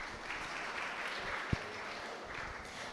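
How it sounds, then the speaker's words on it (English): Applause from the audience for prize winners at the valedictory session of a two-day international conference: a steady, dense clapping wash throughout, with one sharp louder clap standing out midway. "Let us all give them a huge round of applause."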